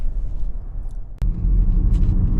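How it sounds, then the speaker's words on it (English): Steady low road rumble inside a 2021 Ford Mustang Mach-E GT Performance electric car on the move, with a brief sharp click midway and then a slightly heavier drone, no voices. "So we're driving the Mustang Mach-E GT Performance now"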